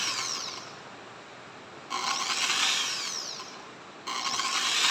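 An INGCO impact drill spins freely in normal rotation, a steady high motor whine that runs in bursts with brief drops in between, close and loud with no talking.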